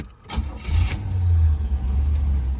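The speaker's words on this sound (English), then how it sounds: "Nice, smooth running car." Engine of a 1985 Chevy Caprice Classic Wagon cranking and catching, then settling into a loud, smooth, steady low idle up close.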